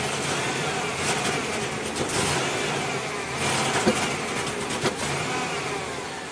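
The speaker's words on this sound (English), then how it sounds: "Let's rev it up." A '97 Chevy K1500 with weak fuel pressure, its engine revving steadily up and down for several seconds, a loud continuous rumble with a few small swells and no talk.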